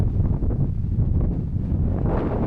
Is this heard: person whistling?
no